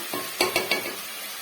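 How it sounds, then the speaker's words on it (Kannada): Vegetables for a vegetable pulao frying in a pan, with a steady close sizzle and three quick spoon scrapes as the mix is stirred, no voices. "ಚೆನ್ನಾಗಿ ಒಂದು ಎರಡು ನಿಮಿಷ ಈ ರೀತಿ ಫ್ರೈ ಮಾಡ್ಕೊಳ್ಳೋಣ"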